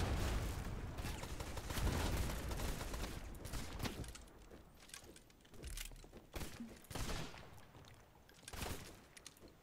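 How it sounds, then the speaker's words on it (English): Repeated booming ship cannon blasts in the video game Blazing Sails, in rapid bursts, heavy thuds and cracks tumbling over one another amid a noisy, chaotic battle din. "Fire the cannon"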